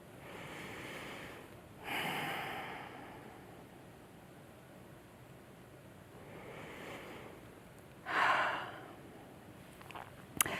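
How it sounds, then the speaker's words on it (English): Two slow, deep breaths, each a soft, airy rush rising and fading over a second or so, heard faintly and close against a quiet background with no talking. "take a deep, slow, integrative breath for a few seconds"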